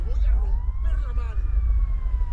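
An ambulance siren wails in GTA 5, its rising and falling tone heard over a heavy low rumble of engine and game noise, loud and close for a brief moment.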